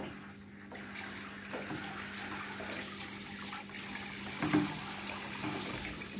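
Tap water runs steadily while a dog is bathed indoors, a soft continuous stream with a few faint splashes and knocks, no talking.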